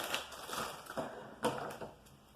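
Bubble wrap and inflated air-cushion packing pillows are handled near the mic, giving soft rustling crinkles with a few sharper crackles and pops scattered through, alone without talk.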